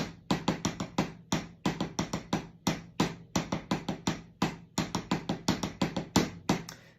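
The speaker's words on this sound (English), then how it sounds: "There's a 6-stroke roll." A drummer plays repeated 6-stroke rolls on a drum kit, a fast, close, evenly pulsing stream of sharp hits grouped in quick bursts with brief gaps, continuing steadily without any voice.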